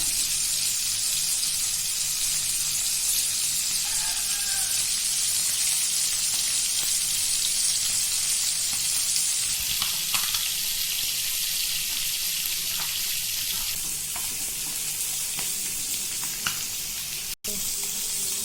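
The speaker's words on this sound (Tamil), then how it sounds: "பொரிக்கும்போது சிம்மில் வச்சுக்கிறோங்க." A constant bright sizzle of fish frying in hot oil over low heat, with occasional clicks and pops, steady throughout.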